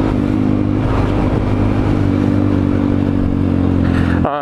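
A Honda Grom 125 motorcycle engine drones loud and steady while riding, a constant buzzing hum with wind rush that cuts off abruptly near the end.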